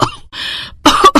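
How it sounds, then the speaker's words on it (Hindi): A woman coughs several times in short, sharp bursts from wood smoke rising off a wood-fired cooking stove, close and loud with brief gaps between coughs. "धुआं उठा तो उसकी आंखें लाल हो गईं और खांसी भी उठने लगी।"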